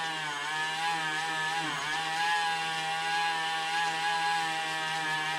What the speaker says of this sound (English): So I'm just using a little Dremel. I'm going to turn it on and just go over this all real lightly